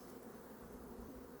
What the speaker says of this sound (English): Full frame bees here.